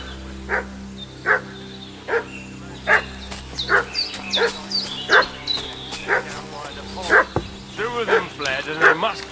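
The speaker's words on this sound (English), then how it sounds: "What's that dog making such a fuss about?" A dog in the video game Kingdom Come: Deliverance 2 barks repeatedly in a steady rhythm of sharp yaps and woofs over a low ambient hum, the barks growing busier toward the end.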